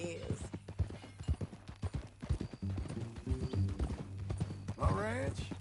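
Horse hooves clip-clop in a steady rhythm in the video game Red Dead Redemption 2 while people talk over them, ending with a horse's whinny.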